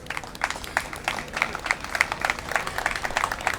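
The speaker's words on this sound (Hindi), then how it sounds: "तालियां बजाइए।" An open-mic audience at a Women's Day poetry event claps in a steady, dense burst of many hands, fairly close and continuing without pause.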